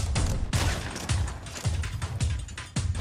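Gunfire in the video game Fortnite: a rapid string of loud, close shots in quick bursts, each with a heavy low thump, firing almost continuously with no talking.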